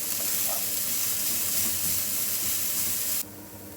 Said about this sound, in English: Now I'm going to add onion. Stir and fry them till they soften.